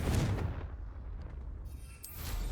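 Confringo blasting spell cast in Hogwarts Legacy, a deep booming blast at the start that rumbles and fades, followed by another low impact near the end.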